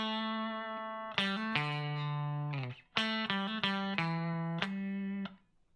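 Clean electric guitar played through a Boss CP-1X compressor with the attack raised, strumming a series of chords with sharper, snappier pick onsets before each sustained ring, played solo and up close.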